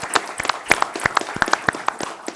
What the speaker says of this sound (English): I think you all deserve a round of applause as well.